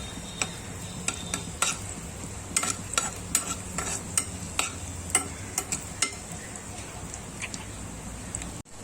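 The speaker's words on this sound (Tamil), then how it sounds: "முந்திரி நல்லா பொரிஞ்சதும் கிஸ்மிஸ் போட்டுக்கலாம்." Cashews and raisins sizzle in ghee for carrot halwa while a spoon stirs, making a steady soft fry with irregular sharp clicks of utensil against the pan, close up.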